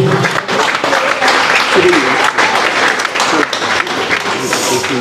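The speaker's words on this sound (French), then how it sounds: "je vous demande d'applaudir très fort la chorale de Jaroué" Loud, dense audience applause for a choir at the inauguration of a renovated chapel, held in a cinema hall, a steady wash of clapping with voices mixed in.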